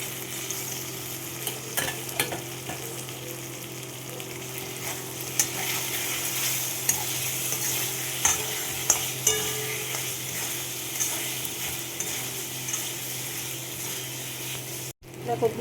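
Potatoes and spiced masala fry in a pan for a boal fish dish, a continuous close sizzle with intermittent stirring clatters and scrapes.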